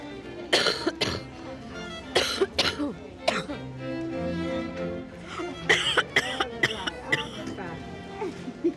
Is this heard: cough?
yes